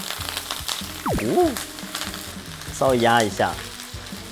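An un-air-dried duck breast fries skin-side down in a GUSTO blue steel frying pan, giving a steady close sizzle and crackle throughout while a person talks over it.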